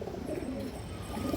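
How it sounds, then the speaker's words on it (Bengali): Ring-eyed pigeons coo softly in a loft, low murmuring calls blending into a continuous, faint bed of bird sound with no voices over it. "এই যে দেখেন একবার রিং চোখের কবুতর"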